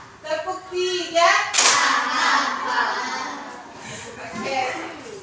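Children in a classroom join a rhythmic hand-clapping game, a burst of sharp group claps following a spoken cue, with voices talking around the claps and the room's chatter continuing after.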